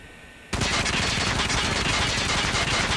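A BK57 submachine gun fires in a video game as a sudden, continuous full-auto burst that starts after a brief quiet moment and holds loud and dense to the end.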